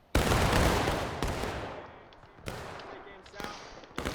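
Musket volleys in the War of Rights video game, a Civil War–era battle: a loud opening crash of massed fire, then several sharper separate volleys at irregular intervals that crack and fade, near and distant.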